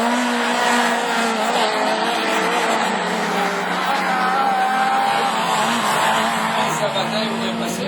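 Rallycross cars racing on a French championship circuit, a Renault Clio among them, engines roaring and revving continuously at a distance, with tire noise beneath a commentator talking over the action.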